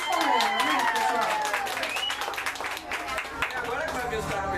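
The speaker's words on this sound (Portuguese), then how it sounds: "Aplausos para ela, né, pessoal?" At a street serenade for Ana in Guaianazes, people applaud in quick, scattered claps under a blend of loud music and lively voices.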